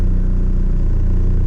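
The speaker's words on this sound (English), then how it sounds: "I'm sitting here in traffic in Salt Lake City, Utah" Car traffic in Salt Lake City, Utah: a steady low engine rumble of idling and slowly moving vehicles, loud and close, with no voices.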